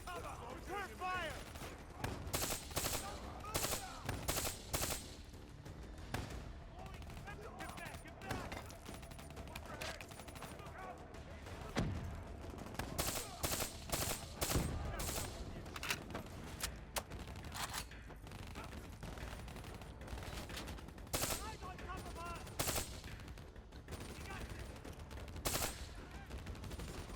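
Dense gunfire in the video game Call of Duty Black Ops 3, with rapid automatic bursts and repeated sharp shots running continuously under a busy battle soundscape, mixed with voices.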